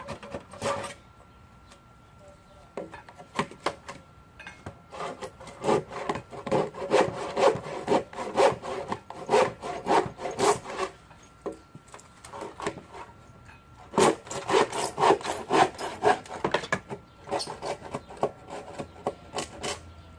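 A hand saw works through a wooden board for deck stairs, with repeated rasping strokes in uneven bursts separated by short pauses, close and fairly loud.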